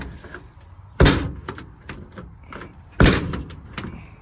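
A vintage truck door is tugged at and rattled by someone trying to open it, giving two sharp metallic thunks about two seconds apart amid smaller clicks and handling noise.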